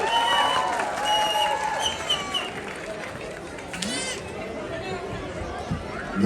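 An audience at a mimicry show in Abu Dhabi murmurs and chatters, with scattered clapping rising and falling beneath a speaker's voice, a mid-distance crowd noise that never quite swells into full applause.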